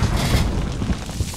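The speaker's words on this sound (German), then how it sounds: "Werfe Granate!" A grenade blast in the multiplayer shooter Call of Duty Modern Warfare, a loud, close, low rumbling boom that swells and rolls on for over a second before easing off.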